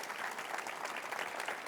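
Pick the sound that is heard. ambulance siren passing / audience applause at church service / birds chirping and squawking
audience applause at church service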